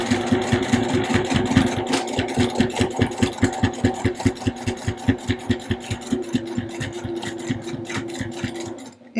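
A sewing machine runs a narrow seam on a small AirPods case holder, its needle thumping in an even, rapid rhythm for about nine seconds before stopping abruptly.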